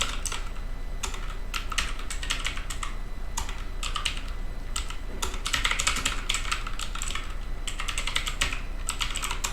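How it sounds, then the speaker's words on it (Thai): Fingers type steadily on a computer keyboard, entering questions in bursts of rapid close-up key clicks with brief pauses between them. "แล้วก็พิมพ์ คำถามไปเรื่อยนะครับ"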